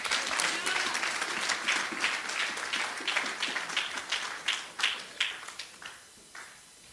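A church congregation applauds at the close of a sermon, a dense wash of clapping hands that thins into scattered claps and fades toward the end.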